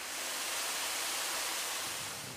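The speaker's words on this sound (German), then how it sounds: "Der Snakey sprüht Wasser zum Kühlen direkt dahin" Snakey firefighting device spraying cooling water at the battery of a burning electric car, a steady dense hiss of water spray, close and even, with no voices.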